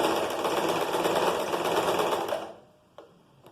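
Sewing machine stitching a fabric top, a fast close rattling run of stitches beginning with a backstitch, then stopping abruptly, followed by a small click.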